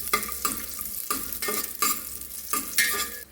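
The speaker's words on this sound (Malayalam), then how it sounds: "ഓയിൽ ചൂടാകുമ്പോൾ നമുക്ക് ഈ കറുവാപ്പട്ടയും ഗ്രാമ്പും ഇതിലേക്ക് ഇട്ടൊന്ന് ഇളക്കി കൊടുക്കാം." Cinnamon and cloves stirred into hot oil in a pressure cooker: about six close, rhythmic scraping strokes, each with a brief sizzle, and no talking.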